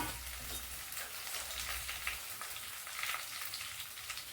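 Dried red chillies and coriander seeds fry in a hot pan, giving a quiet, steady crackling sizzle that continues alone throughout, with no voices.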